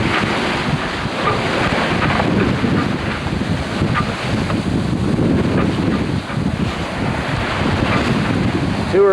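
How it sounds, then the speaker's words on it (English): Continuous wash of open-ocean waves and surf aboard a B-40 sailboat in the 1997 Marion Bermuda Race, rushing steadily with wind noise over the microphone, no voices. "Just want to take one last shot of these waves here"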